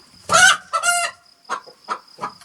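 Chickens cluck inside a coop, a few close, loud clucks and crowing-like calls followed by short, separate clucks, with a faint steady background tone.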